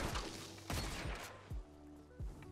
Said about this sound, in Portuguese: Cara, um tiro.